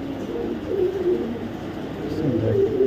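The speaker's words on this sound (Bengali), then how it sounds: "দেখাবো একটা মাদি কবুতর" A female pigeon gives low, rolling coos that continue throughout, fairly close, with a person's voice audible underneath.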